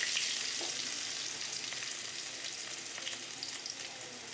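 Garlic, onion and capsicum frying in hot oil, a steady close sizzle with faint stirring clinks, level throughout and with no talking.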